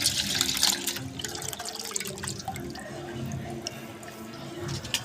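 Tap water runs and splashes into a sink while fish is washed by hand, with uneven drips, spatters and clatter, fairly close, in a kitchen.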